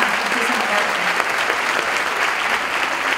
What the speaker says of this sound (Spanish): Pido un fortísimo aplauso para ella.